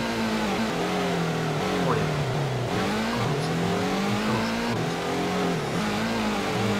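A car engine in a night race in the Gran Turismo video game, droning steadily and revving as the tone shifts with gear changes, continuous and fairly loud, with someone talking over it.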